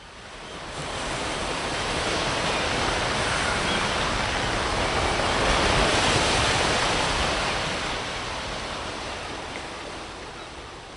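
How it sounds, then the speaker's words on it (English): Ocean waves roll as a steady, broad surf wash, swelling gradually to a loud peak midway and easing off again, with no other sound. "But first, the waves."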